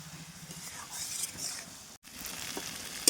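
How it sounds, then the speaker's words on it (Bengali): Spices sizzle as they are sautéed with chilli powder, salt and sugar in a pan, a low frying hiss with faint scraping stirs, close and quiet, with a brief dropout near the end. "সব কিছু একসাথে ভালোভাবে কষিয়ে নেব"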